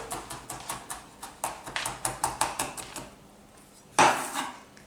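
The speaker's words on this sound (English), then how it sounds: "I'm gonna chop some garlic." Garlic being chopped with a knife on a cutting board, a quick run of about fifteen evenly spaced sharp taps, a brief pause, then one louder knock and clatter, close and without talking.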